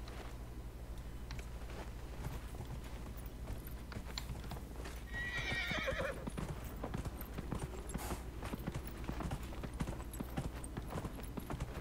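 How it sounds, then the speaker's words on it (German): A horse in Dragon Age Inquisition gallops with steady, rapid clip-clop hoofbeats throughout, broken midway by a short whinny, all fairly loud and close with no talking. "Wo ist mein Pferd? Da ist mein Pferd."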